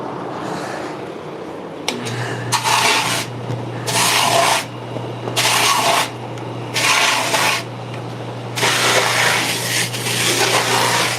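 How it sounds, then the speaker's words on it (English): Sanding wheel shaping a handcrafted wooden skateboard deck, with a steady motor hum beneath repeated bursts of loud abrasive rubbing as the deck is pressed against it in passes. "now we take it over here to the Mac wheel"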